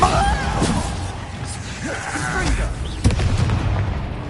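In a Hogwarts Legacy duel, a Bombarda explosion spell goes off as a booming blast with crackling bursts and a sharp pop near the end. Game voices speak over it.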